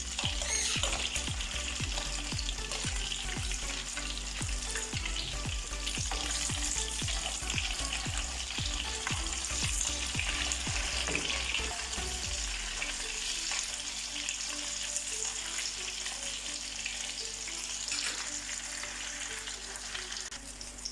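Mutton kebabs fry steadily in a pan, a dense continuous sizzle with a run of rhythmic scraping taps through the first half that stops around midway, leaving an even, close frying hiss.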